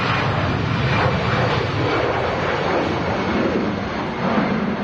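An EasyJet Airbus A319 jet takes off at Manchester Airport, a loud continuous roaring engine rumble with broad hiss that holds steady throughout, with no talk.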